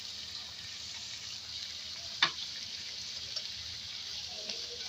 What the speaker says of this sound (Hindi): इसको हमने हल्का सा फ्राई कर लेना है तीनों चीज़ों को